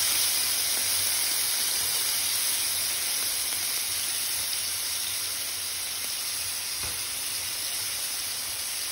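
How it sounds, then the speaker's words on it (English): Shrimp grilling in a pan gives a constant, bright sizzling hiss of steam that runs evenly throughout at moderate loudness, alone without talk. "Let's go ahead and get our shrimp grilled."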